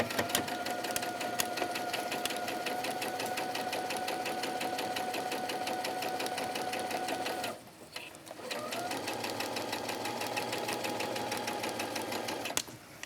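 A sewing machine stitching faux fur for a winter muff, running in a steady, close mechanical whir that stops briefly partway through and then resumes at the same pace.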